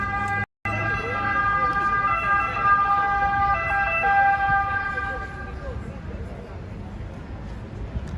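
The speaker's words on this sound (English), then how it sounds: "Cue the sirens." An emergency vehicle's wailing siren sweeps past on a Rome street, loud and close for several seconds before fading, with steady traffic and street noise underneath.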